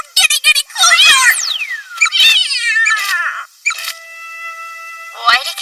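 A cartoon cat in an English-dubbed anime voices its anger with a string of loud, close, rising and falling yowls and meows, likely performed by a voice actor imitating the animal.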